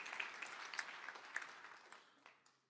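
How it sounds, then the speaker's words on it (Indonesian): Lively applause from a church congregation during a worship service, a dense spread of many hands clapping that holds steady and then slowly fades away. "Tepuk tangan yang meriah untuk kemuliaan Tuhan"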